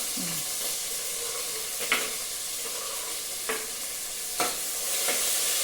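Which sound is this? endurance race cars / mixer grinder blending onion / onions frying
onions frying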